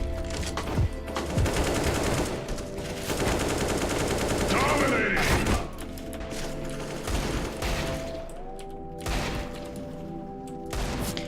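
Rapid Desert Eagle pistol shots in a CS:GO free-for-all match, sharp repeated cracks amid other gunfire and game effects, steady and fairly loud throughout.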